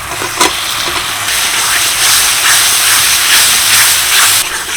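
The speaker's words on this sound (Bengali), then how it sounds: "এবার দিয়ে দিচ্ছি ভেজে রাখা আলু" Fried potatoes dropped into hot spice masala in a pan for a vegetarian cabbage dish, bursting into a loud, steady sizzle and hiss that holds close up for several seconds, with no talking.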